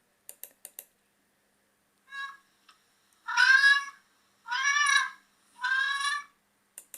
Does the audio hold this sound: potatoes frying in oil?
no